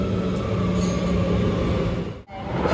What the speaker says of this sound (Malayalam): നമ്മൾ കാത്തിരിക്കുന്ന ആളുടെ ട്രെയിൻ വന്നിരിക്കുന്നു.